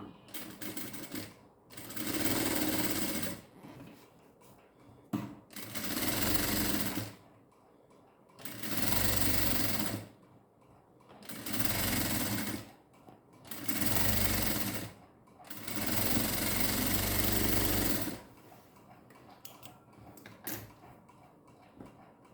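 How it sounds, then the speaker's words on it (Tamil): A sewing machine stitches piping cloth onto a blouse sleeve in several loud, sustained bursts of whirring, separated by short pauses for repositioning the fabric. "இந்த கைக்கும் நம்ம அதே போல் பைப்பிங் துணியை மேலே வச்சு ஸ்டிச் பண்ணிட்டு வரோம்"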